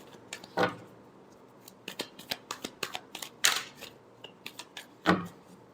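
Tarot cards being shuffled by hand at close range, a quiet run of crisp, uneven snaps and slaps with a few louder bursts, heard alone without talking.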